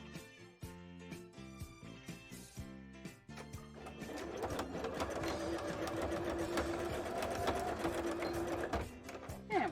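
A sewing machine stitches a zigzag seam across the front of a handmade bra. Short bursts of rapid needle clatter give way to a long, continuous run of stitching.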